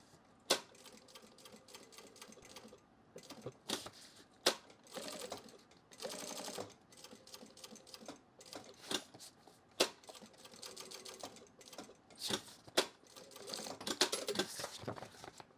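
A sewing machine stitches a drop-liner duffle bag in bursts of rapid mechanical chatter broken by pauses, sharp clicks and handling sounds, fairly quiet and close with no talking.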